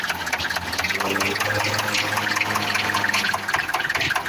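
Mobile crane engine running as the machine drives forward, a loud, steady diesel rumble and drone close by, continuous throughout with no pauses.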